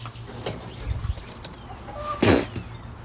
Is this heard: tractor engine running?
no